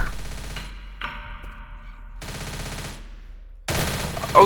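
Gunfire from a weapon in the zombie shooter Left 4 Dead, a few separated loud blasts with quiet gaps, the last one sharp and close.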